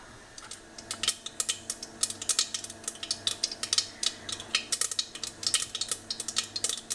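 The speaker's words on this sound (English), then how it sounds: "we're going to wait until the mustard seeds pop" Mustard seeds with a dry red chili pop and crackle in hot oil, a steady run of small sharp snaps growing busier over several seconds, close up and without talk.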